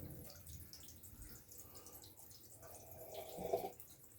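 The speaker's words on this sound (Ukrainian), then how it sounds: "Так, водичка все ще тече." Water trickles weakly from a tap in an apartment during a power blackout, a faint, steady thin flow with soft drips and no talking.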